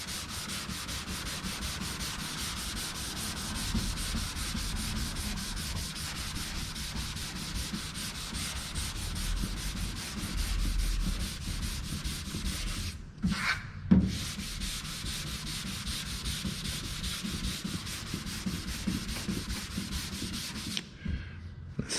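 Sandpaper scraping back and forth along a curved surface, a steady, close rasping that fills the whole stretch with continuous strokes, broken by two brief pauses partway through and a short stop near the end, with no talking.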